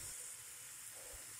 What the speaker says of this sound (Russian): лук продолжает жариться